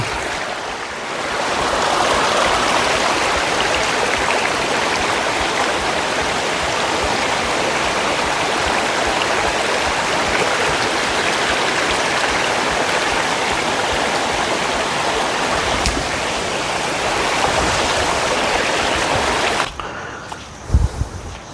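Waterfall water rushing steadily through a dense forest, a loud continuous roar with no break, ending with a few brief knocks and handling sounds.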